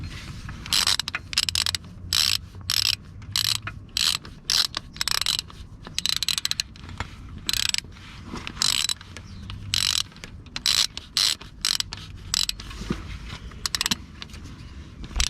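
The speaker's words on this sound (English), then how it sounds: "now we're going to do the bottom hex bolt holding the rear bottom of the alternator in place" A ratchet wrench works a hex bolt loose on the alternator of a Peugeot 407 2.0 HDI, sharp clicking strokes repeating in uneven bursts close by, with short pauses between runs.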